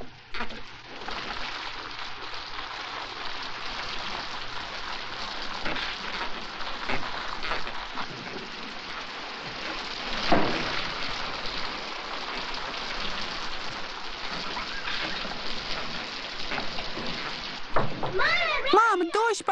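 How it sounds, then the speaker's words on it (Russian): Steady rain falls throughout as a dense hiss, with a brief swell near the middle and faint voices toward the end. "Мам, дождь пошел, а бабуля не заходит."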